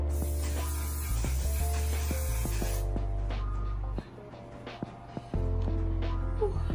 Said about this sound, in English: Set the face with a one size setting spray.